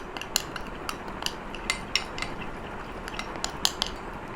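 A spoon stirs fresh aloe vera gel mixed with turmeric in a small bowl, producing rapid, close, light metallic clinks and scrapes that continue throughout.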